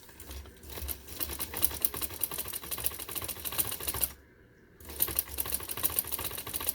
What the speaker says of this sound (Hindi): फिर इसी को हमने डबल सिलाई करनी है